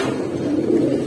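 A group of Giribaz and pangkhi fancy pigeons coo continuously in a low, dense murmur, loud and close, with no talking.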